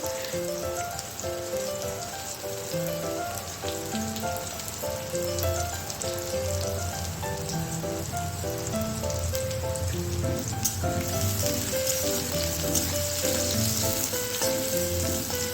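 Onions fry in a pan with a steady, close sizzle and crackle that runs unbroken throughout, with tonal background music underneath.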